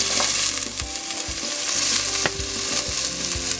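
Onions, celery, cilantro and scallions sizzling in a soup pot, a steady close frying hiss with stirring knocks and scrapes against the pot.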